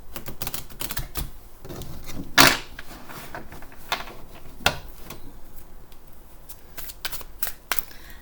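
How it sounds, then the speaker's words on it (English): Astrology cards are shuffled by hand in a run of quick riffling bursts. One loud crisp riffle stands out near the start, followed by softer flutters and taps at close range, with no talking. "let's do one more shuffle."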